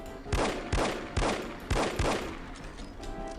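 Five loud, evenly spaced gunshots in No One Lives Forever, each a sharp crack with a short decaying tail, followed by quieter ambience.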